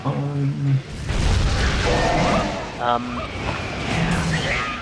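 Bombs going off in the video game Monster Hunter Tri, a rumbling burst of blasts that runs low and loud for several seconds alongside game sounds and a voice talking over it.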